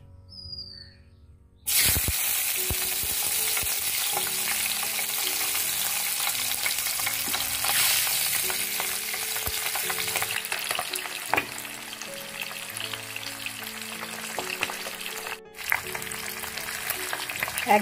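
After a short quiet start, pabda fish hits hot oil and a dense, close sizzle erupts, continuing steadily with occasional spatters and light pan sounds for the rest of the stretch.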